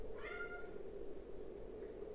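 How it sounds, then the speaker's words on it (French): A house cat gives one short meow early on, faint and fairly close, over a low steady background hum. "Pardonnez-moi, mon chat fait un peu des bêtises."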